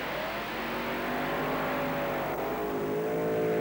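A pulling tractor powered by a pair of aluminium Oldsmobile Chevy engines at a tractor pulling contest, a loud sustained roar that rises steadily in pitch as the engines rev and strain.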